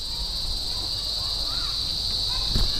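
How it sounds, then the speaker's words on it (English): Steady high-pitched cricket chirring fills the air in Dapitan City, Philippines, with faint bird calls drifting in the background. "You can hear the loud sounds of the birds and crickets."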